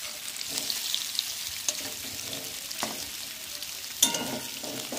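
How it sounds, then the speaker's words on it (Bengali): Boiled potatoes fry in oil in a kadai for egg biryani, a soft steady sizzle with a few clanks and scrapes of a spatula turning them, near and fairly quiet with no talking. "আমি সেদ্ধ আলুগুলোকে তেলের মধ্যে ভেজে নেব।"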